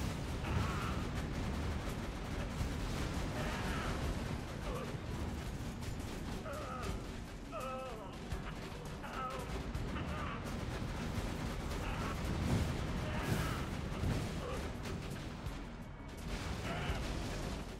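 Continuous gunfire and blasts from the video game Borderlands 2 during a fight against Pyro Pete, forming a dense, steady barrage with crashes mixed in and faint voices beneath.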